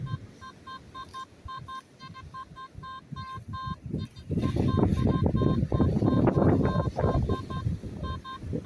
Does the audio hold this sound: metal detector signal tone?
yes